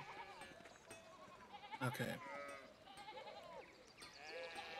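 Sheep bleat repeatedly in the Pentiment video game, several wavering cries overlapping close by against a busy background, with a brief spoken word from a person partway through.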